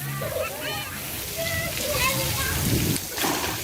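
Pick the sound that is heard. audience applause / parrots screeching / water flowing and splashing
water flowing and splashing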